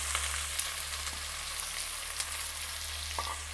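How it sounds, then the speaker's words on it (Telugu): Chopped onions frying in oil with cumin seeds for a dum aloo, a steady soft sizzle with faint scattered crackles throughout and no talking. "మనం తరిగి పెట్టుకొని ఉల్లిపాయ ముక్కలు వేసి వేయించుకోవాలి."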